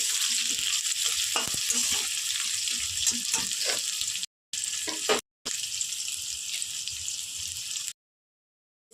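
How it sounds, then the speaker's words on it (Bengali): Chopped onions fry in a pan with bay leaf and garam masala, giving a steady loud crackling sizzle with stirring scrapes, cut off by brief silent gaps and a silent end. "আমি কড়াতে কিন্তু তেজপাতা আর গরম মশলা দিয়ে ফোড়ন দিয়েছি, আর দিয়ে দিচ্ছি পেঁয়াজ কুচিগুলো।"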